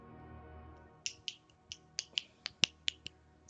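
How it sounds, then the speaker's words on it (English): Finger snaps ring out crisp and close, about nine sharp clicks in an irregular run over a quiet background. "Snapping my fingers."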